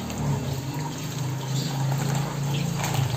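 Water being mixed and poured into a fish pond to acclimatize newly bought soa and siro fish, giving a steady close-up splashing and trickling wash throughout, with no talk.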